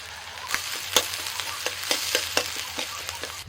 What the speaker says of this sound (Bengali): আবারও কড়াইতে আমি তেল দিয়ে দিয়েছি আর তেলের মধ্যে দিয়ে দিচ্ছি পেঁয়াজ কুচি